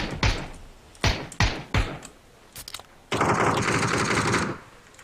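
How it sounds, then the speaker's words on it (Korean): Several sharp gunshots in the video game PUBG ring out with gaps between them, followed by a sustained burst of loud rapid fire lasting over a second. "총소리만 들리고 사람은 안 보임"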